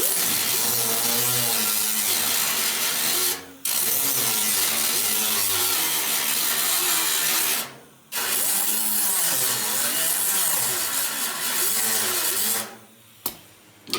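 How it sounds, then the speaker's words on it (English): An angle grinder grinds the top off a MIG weld on a car, producing a loud, continuous rasping whine that wavers in pitch, broken by two short pauses and a final stop near the end. "you just grind the top off"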